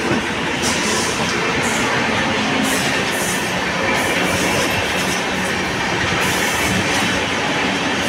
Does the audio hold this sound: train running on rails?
yes